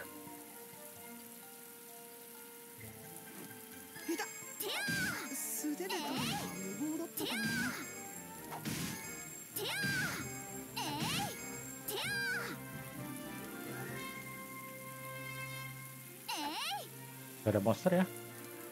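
Rain falls in the Atelier Ryza 2 video game as a soft, continuous patter under background music, while someone speaks over it at intervals.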